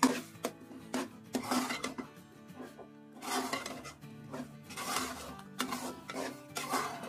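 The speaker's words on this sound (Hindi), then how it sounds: "तमाम मसालों को अच्छी तरह भून लेंगे" Spices and kadhai gosht masala, about three tablespoons, being stirred and roasted in a karahi pan for fish karahi, giving close, irregular scraping and clinking of a utensil against metal with a soft sizzle underneath and no speech.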